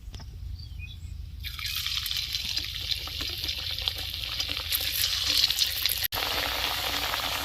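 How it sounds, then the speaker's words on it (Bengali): Square semolina and potato snacks frying in hot oil, a continuous bubbling sizzle that swells after the first second and keeps going steadily, with small clinks and crackles mixed in. "এবার কয়েকটা চৌকো ভেজে নেবো"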